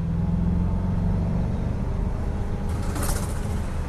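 A Range Rover Sport SVR engine roars steadily and loudly, a deep continuous rumble with a brief brighter rise near the end.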